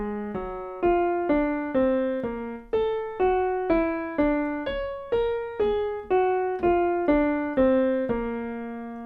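A saxophone plays an ascending jazz sequence in major thirds, stepwise short, evenly spaced notes that climb in pitch, clear and close with no accompaniment.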